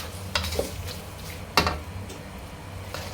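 Fish stir-fried in a frying pan for a Thai fish dish, a utensil scraping and clinking against the pan in a few separate strokes over a faint, steady sizzle.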